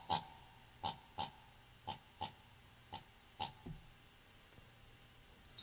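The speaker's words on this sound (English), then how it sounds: "pigs oinking?" Pig oinks on a farm, a series of short grunting snorts spaced irregularly, about ten in all, fairly close and clear against a quiet background.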